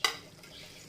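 Curry leaves and coriander stirred into a simmering Chettinad chicken gravy in a pan, a sharp spoon scrape followed by a soft continuous sizzle, close and alone.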